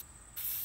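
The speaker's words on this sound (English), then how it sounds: "you have to just be really careful not to spray too much at once because it's a small surface" A spray paint can releases metallic gray paint onto a small surface of a DIY rod rack: a steady, close, loud hiss begins after a brief quiet moment and runs to the end.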